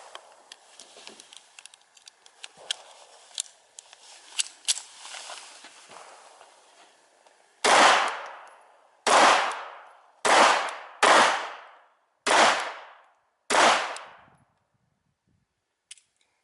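Six sharp, loud pistol shots from a trio of Baby Browning pocket pistols ring out at steady intervals of about a second, each with a short decay, following a quieter stretch of light handling clicks.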